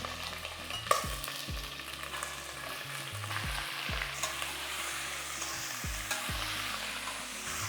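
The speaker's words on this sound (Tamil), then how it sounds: "இந்த தேங்காய் எண்ணெயிலேயே போட்டுடலாம் ஒரு கிலோ அளவுக்கு மட்டன்" About a kilo of large mutton pieces sauté in coconut oil for mutton dum biryani, with a constant close sizzle broken by repeated scraping and stirring strokes of a ladle against the pot, no voices.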